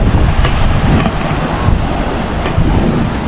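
Rough sea surf rolling in at Boracay beach, a loud, continuous roar of churning waves mixed with heavy wind buffeting the microphone, with no voices.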